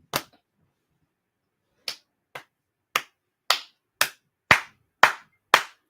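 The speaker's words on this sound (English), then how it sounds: "Give this man a round of applause." A handful of sharp, separate claps: one at the start, then after a pause a steady string of loud, evenly spaced claps, as if one or two people applaud alone rather than a full audience.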